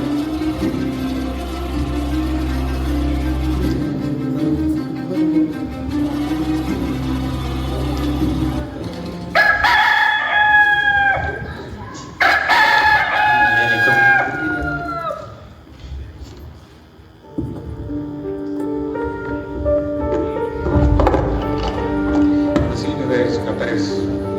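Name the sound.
rooster crowing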